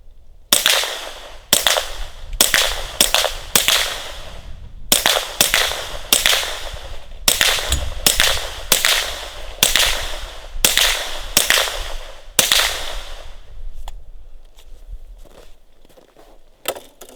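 A rapid string of sharp gunshots from a Ruger PC Carbine 9mm firing Winchester white box ammunition, in quick bursts with brief pauses, each crack loud and echoing, tapering off toward the end.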